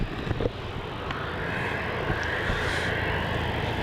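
An airliner departs Melbourne Airport, its jet engine roar a steady, broad rumble heard from a distance with some wind buffeting the microphone.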